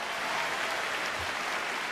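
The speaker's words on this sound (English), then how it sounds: "a big round of applause" Dense applause from a large crowd, a steady wash of many hands clapping at once, filling the whole moment.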